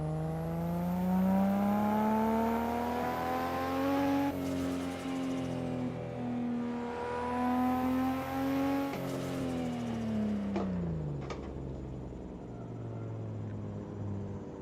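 Manual-transmission car engine revving hard and continuously right after an upshift, a loud close whine that climbs, dips as the gear changes, climbs again and then drops away, with faint tire noise underneath.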